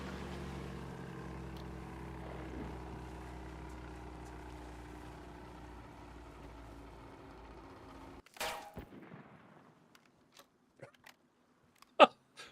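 A motorboat engine in the video game DayZ, set on the Chernarus coast, drones steadily and loudly, then cuts out, leaving a few sharp clunks and knocks.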